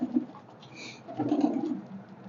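Soft, low pigeon coos close by, a couple of throaty bursts with a faint higher chirp between them, otherwise quiet.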